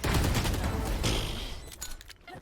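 Dense video-game gunfire from a Valorant-style tactical shooter, a loud continuous burst of rapid shots that thins out toward the end.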